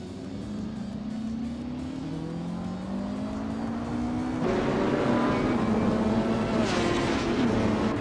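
A 1958 Maserati 250F with a 3.5-liter engine races on a circuit, its engine note climbing steadily through the gears, then a louder, rougher roar as the car draws nearer.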